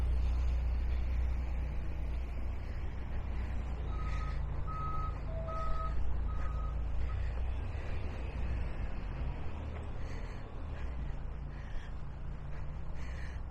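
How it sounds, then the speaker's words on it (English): A 53-foot semi truck reverses at a Walmart in Bayer's Lake, Halifax, sounding a short run of steady backup beeps about four times over a constant low engine rumble and outdoor traffic hum. "Walmart is getting a big 53-footer truck in, offloading some pallets"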